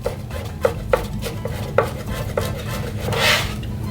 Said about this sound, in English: And then we're just gonna chop it up.